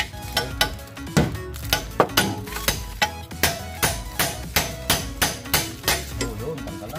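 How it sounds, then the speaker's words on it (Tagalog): Repeated sharp metallic hammer blows on a chisel while removing the steering rack end from a Multi Cab, about a dozen strikes in a steady rhythm, loud and close with no talking. "gamitan mo lang yan ng chisel. Tapos dito mo lang pukpukin, oh."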